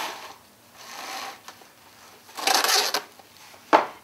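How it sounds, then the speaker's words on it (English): Crinkling rustle of plastic wrap being pulled and pressed over hot cross bun dough in a home kitchen, soft at first, then a louder crackly burst and a short sharp tear near the end. "And then we're going to cover that with plastic wrap to help it not dry out."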